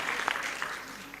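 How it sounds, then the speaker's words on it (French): Audience applause for the Tunisian delegation at an African interior design awards event, a dense patter of many hands clapping at a moderate distance, steady through the moment. "Please, let's appreciate. Applaudissons la délégation tunisienne."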